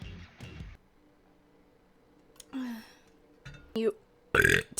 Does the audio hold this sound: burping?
yes